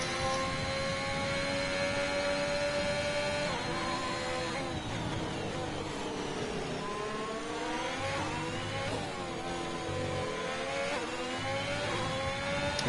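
Racing car engines on track at Imola roar continuously, climbing and dropping in pitch through gear changes and corners, with passing cars layered at varying distance under faint commentary.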